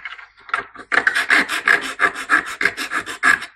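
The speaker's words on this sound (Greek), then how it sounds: "Αυτό που θα κάνουμε τώρα είναι είτε με μία λίμα," Rasping strokes of a hand file smoothing burrs off the freshly cut edge of a piece, fairly loud and close, in a steady back-and-forth rhythm of about a dozen quick strokes with no talking.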